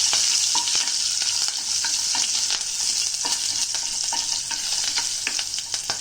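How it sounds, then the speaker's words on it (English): Chopped ginger, slit green chilies and fenugreek seeds sizzle loudly in oil in a pan, with a constant bright hiss and a steady run of quick crackles and scraping stirs throughout. "Let's give this a stir."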